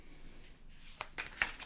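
Tarot or oracle cards from an animal spirit deck being shuffled, with soft riffling bursts and a few sharper flicks that grow near the end, close and fairly quiet with no talking.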